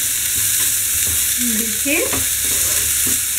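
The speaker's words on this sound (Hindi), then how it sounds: "प्याज को भी हम भूनेंगे। जब तक हमारी प्याज हल्की ट्रांसपेरेंट नहीं हो जाती है हम जब तक इसको फ्राई करेंगे।" Chopped onions fry in a pan until translucent for a veg momo filling, giving a steady, close sizzling hiss with a soft stir partway through and a brief voice in the background.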